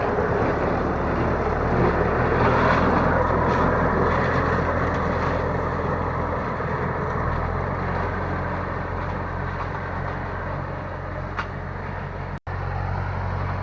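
T-40AM tractor running with a 1.7 m rotary mower cutting potato tops and weeds in a field, a steady close engine drone throughout with wind noise and one brief sharp knock near the end.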